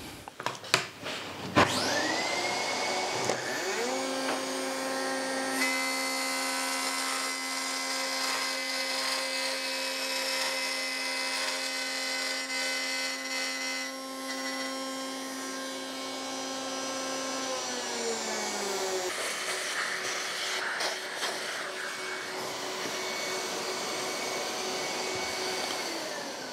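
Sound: wood router cutting kumiko jig

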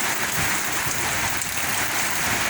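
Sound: rain falling while washing a Toyota Vigo Champ pickup

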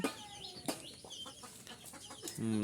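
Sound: native chickens clucking

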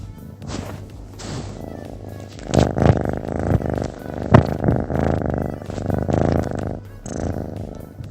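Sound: cat purring

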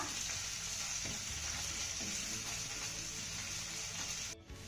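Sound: sautéing cumin, grated ginger and garlic in a pan

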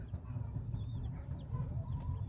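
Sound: rooster clucking

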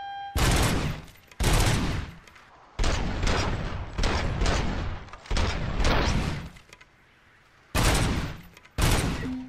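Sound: gunfire from the Auto-9 with magazine feeder, RoboCop: Rogue City video game

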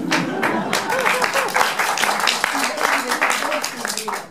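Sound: audience applause

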